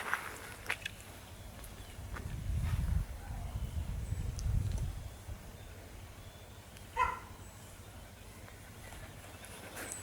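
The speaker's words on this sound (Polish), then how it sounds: "Sonia szczeka, ale chyba nie chce wyjść." A dog barks a few times at a distance in the countryside, faint and intermittent, over a quiet outdoor background with low rumbling.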